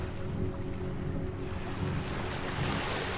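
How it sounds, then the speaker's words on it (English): Waves wash against rocks in a steady, dense roar of surf with a constant hiss and low rumble, close and unbroken, with no voices. "The water on the rocks."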